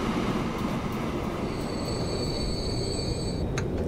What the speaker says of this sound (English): But once this train is through,